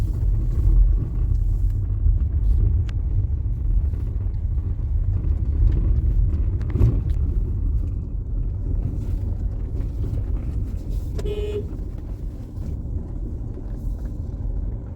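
A Ford EcoSport driving downhill on a steep, winding road, heard from inside as a loud, steady low rumble with wind buffeting and occasional faint rattles and a brief tonal beep.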